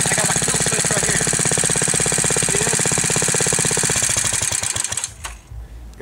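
Small engine on a homemade motorbike runs loud and close with a rapid, steady putter that cuts out near the end as it is shut off, leaving a brief sputter and quiet.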